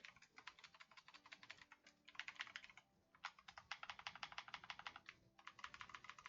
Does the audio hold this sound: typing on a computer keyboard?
yes